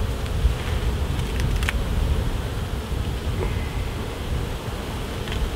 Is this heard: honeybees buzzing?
yes